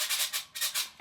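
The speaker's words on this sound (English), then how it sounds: "I just put the smaller pole in here, and it sounds like this." A smaller pole pushed into the base of an infrared hair dryer stand, giving several short, close, bright squeaks and scrapes in quick rhythmic strokes, ending with a faint clunk.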